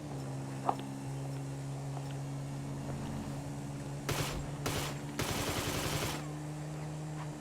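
Micro SMG fire in GTA V arrives as three quick bursts of rapid automatic shots over a low, steady engine hum, fairly quiet and with no talk.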